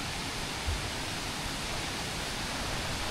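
Miners Run creek flows down Miners Gorge toward Rock Run Creek as a soft, even, continuous rushing hiss, heard from some distance with no voices.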